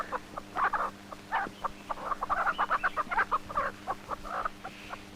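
Hen clucking in a series of short, bright bursts over a steady low hum, with a rooster-like tone at times, moderately close and fairly loud, no speech.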